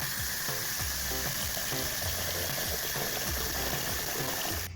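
Cold tap water runs steadily over cut potatoes being soaked for homemade French fries, a continuous close splashing rush with faint knocks, with no talk.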